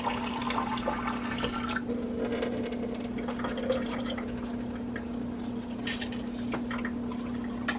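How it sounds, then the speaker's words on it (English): Water being poured from a can into condensed tomato soup in a kitchen, a soft continuous trickling and splashing with a few brighter drips, fairly quiet under a steady background hum. "add a 1/2 can of water"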